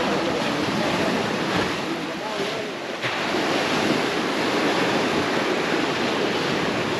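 Ocean surf washes steadily onto a small beach about 30 yards wide at Playa Chiquita in Sosúa, with a continuous roar of waves and gusty wind buffeting the microphone.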